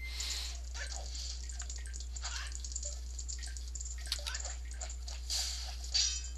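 Hot spring water sloshing and dripping in Zelda: Majora's Mask, a soft, continuous splashy wash with scattered drips over a steady low hum, fairly quiet.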